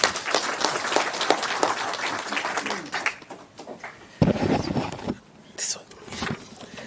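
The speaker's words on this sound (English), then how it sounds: "let's just give him a round of applause once more" Applause from the audience at a provincial research colloquium, dense clapping fading out midway, then a few scattered claps and murmured voices in the quieter stretch.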